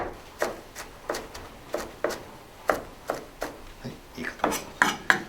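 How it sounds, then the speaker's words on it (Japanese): A knife chops cabbage finely on a cutting board for gyoza filling, giving a steady series of crisp, close knocks about two per second, some slightly louder, with no talking. "キャベツは高いと高さがあるって切っていくとね、手を切る可能性もありますので、押さえつけながらしっかり切っていきましょう"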